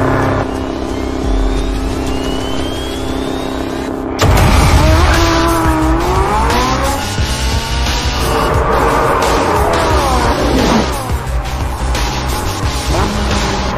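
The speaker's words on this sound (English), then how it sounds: "Next, it was the turn of the Porsche 918." A Porsche 918 hypercar driven hard on a test track: the engine revs up and down in loud rising and falling sweeps with tyre squeal, sustained and close for over ten seconds after a quieter start.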